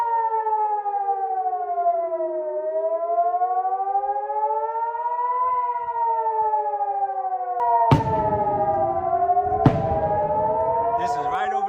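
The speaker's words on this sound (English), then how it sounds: "You can hear the sirens." Loud wailing air raid sirens in Israel during a rocket attack, one rising and falling steadily, with a second siren overlapping and two sharp bangs near the end.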